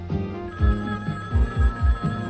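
A telephone rings in a cartoon scene, with a bright electronic ringing tone repeating in quick bursts alongside bouncy thumping music.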